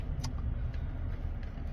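A car on the move heard from inside the cabin, a steady low road and engine rumble with a few faint ticks, close and even with no talking.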